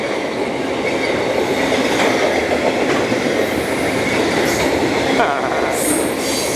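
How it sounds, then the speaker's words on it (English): A freight train rumbles steadily past nearby at Fullerton, California, a continuous loud roar of wheels and cars with faint metallic squeals near the end. "You can't ride a freight train!"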